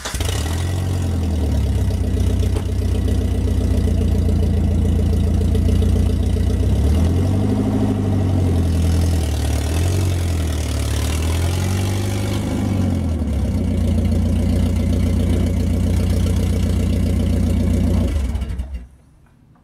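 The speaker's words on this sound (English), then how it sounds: "Now I drive the vehicle carefully on the ramps." Audi A4 engine running as the car creeps up onto ramps, a loud, close, steady drone that swells and dips with throttle changes before cutting off abruptly at the end.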